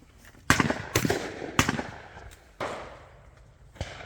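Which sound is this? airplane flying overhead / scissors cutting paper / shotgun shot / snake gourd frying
shotgun shot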